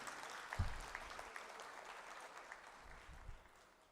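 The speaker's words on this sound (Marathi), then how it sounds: "एक जोरदार टाळ्या या व्यासपीठासाठी" An audience at a Marathi literary stage event breaks into applause, a moderate burst of clapping that starts strong and slowly thins out over a few seconds, heard from slightly back in the hall.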